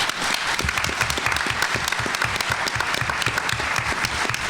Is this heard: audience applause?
yes